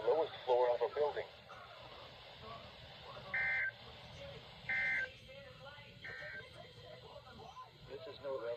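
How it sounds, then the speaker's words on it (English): A NOAA Weather Radio station broadcasts a severe weather alarm during a severe thunderstorm warning. Short, steady electronic tone bursts repeat several times at moderate loudness, with a broadcast voice in between. "This station will broadcast severe weather alarm tones"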